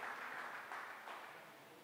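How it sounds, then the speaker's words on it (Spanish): A church congregation claps in welcome for a visiting preacher and his wife, giving a steady, dense wash of applause that holds evenly for a couple of seconds before easing slightly. "vamos a dar otro aplauso de bienvenida para él y su esposa"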